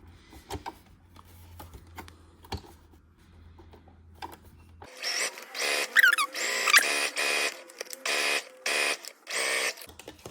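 Sewing machine stitching a second seam to attach bias binding on a garment, heard as a run of rapid mechanical stitching bursts in the second half after a quiet stretch of small handling sounds.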